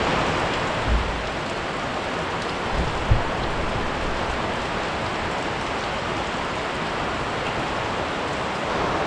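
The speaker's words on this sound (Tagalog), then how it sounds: "Biglang bumuhos yung ulan" Heavy rain pours down in a steady, dense roar of hiss that holds evenly at close range throughout, with a couple of brief low thumps near the start and no voices.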